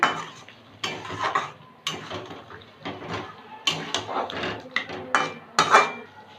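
A spatula clanks and scrapes against a metal pan as hot water is mixed into Bengali egg curry (egg kosha), in irregular bursts of clatter close by.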